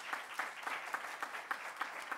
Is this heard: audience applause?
yes